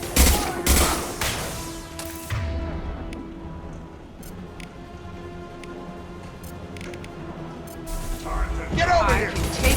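Mass Effect 2 video game gunfire rattles in sharp bursts and volleys, loud at the start and end with a quieter stretch of lingering tones between, while voices speak over the shooting.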